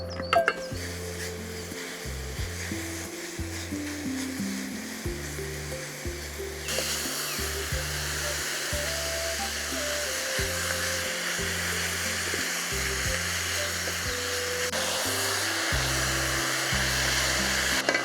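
Pork for a Sri Lankan black pork curry frying in a pan with toasted spices, coconut and rice powder: a steady, close, continuous sizzle that runs the whole way under a faint droning hum.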